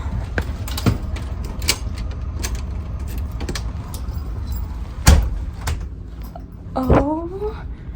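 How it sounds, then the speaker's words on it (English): A key rattles in the lock of a ship's cabin door on a cruise-ship voyage, with sharp clicks and jangles, a loud clunk near five seconds and a door creak near seven, while a person talks throughout. "Oh, my key's in the door, hold on."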